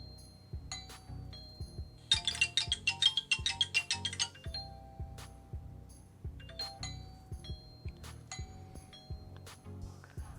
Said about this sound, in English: And then we have ringtones of outdoor doorbell.